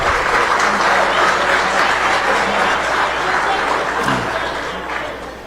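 Applause from the crowd at a downtown business partnership's annual meeting at the Blackhawk venue, a thick, sustained wash of clapping that stays loud throughout, with a few faint voices underneath, before slowly tapering at the end.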